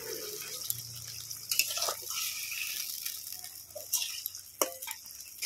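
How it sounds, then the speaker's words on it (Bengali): Water runs and splashes into a cooking pan just after washing, a steady faint stream with a few small clinks and splashes, with no voices. "এইটা ধুয়ে আমি একটু জল দিয়ে দিলাম"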